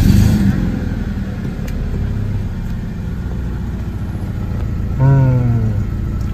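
A 2010 BMW E90 320i fires up from its start-stop button with a brief surge, then idles low and steady nearby; a short rising whine follows later, and no one speaks.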